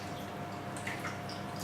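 Hot water is poured slowly into a chicken and rice dish, giving faint, quiet trickles and a few soft splashing drips over a low background, with no talking.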